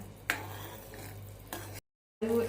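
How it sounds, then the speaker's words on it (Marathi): A spoon stirs halim seed kheer with ghee as it simmers, with two scraping strokes over a low cooking murmur, then a brief dead silence before the sound returns. "आणि परत आपण मिक्स करून घेऊया आपली खिरी"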